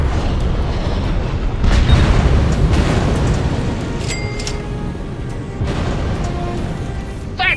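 Heavy artillery fire in the game Scrapland Remastered, a loud sustained rumble of booming blasts with a heavier burst near two seconds and sharper cracks toward the end, continuous battle noise without any talk.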